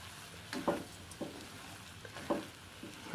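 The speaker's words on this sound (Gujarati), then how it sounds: "અને થોડુંક લીંબુ નીચોવી દઈશું અને હવે હલાવી દઈશું" A spoon stirs lilva kachori filling in a pan after lemon juice is squeezed in, giving a few soft scraping strokes over a faint, low sizzle.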